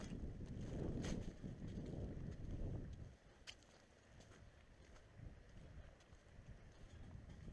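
Strong wind blowing outdoors on an exposed point, loud gusty buffeting against the microphone that eases after a few seconds into a lower, steady rush.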